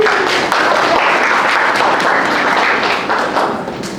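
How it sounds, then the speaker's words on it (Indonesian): Steady applause from students in a classroom for a presenting group, dense continuous clapping that holds loud for several seconds then tapers off slightly at the end. "kelompok 4 silakan berikan tepuk tangan"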